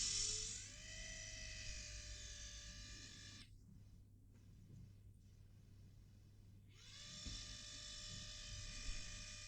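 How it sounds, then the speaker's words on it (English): A small electric motor driven through a homemade baking-soda diode spins with a faint, thin whine that rises as it starts. The whine cuts out for a few seconds, then returns, quiet and steady, under a low background hum. "You can see how the motor rotates."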